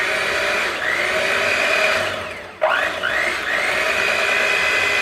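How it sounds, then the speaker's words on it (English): An electric mixer runs on low speed through tres leches cake batter, a steady close whine that dips briefly in pitch and level midway before resuming its even drone. "So you're gonna mix this for 6 minutes on low."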